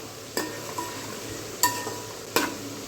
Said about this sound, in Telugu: బాగా బ్రౌన్ కలర్ వచ్చే వరకు వేయించేసుకుందాం ఫ్రైడ్ ఆనియన్స్ లాగా